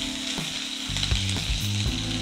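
Mustard seeds and chopped green chillies sizzle and crackle steadily in hot sesame oil, a close, continuous frying hiss with a few stirring knocks and no voices.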